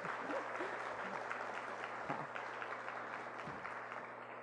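An audience applauds a teacher during a talk, giving steady, fairly quiet clapping throughout over a low electrical hum.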